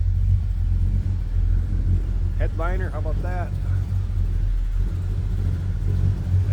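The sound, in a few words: 1955 Chevrolet engine running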